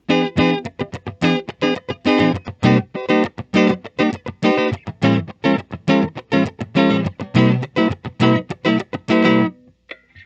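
A Donner DTC-100S T-style electric guitar on its neck pickup plays with a warm, rounded tone, a steady run of picked notes and chords that rings out clearly and stops near the end.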